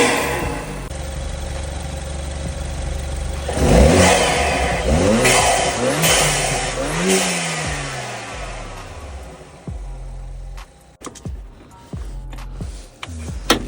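A BMW 4 Series car engine cranks and fires up, then revs through several rising and falling bursts before settling toward idle, loud and close with no talking.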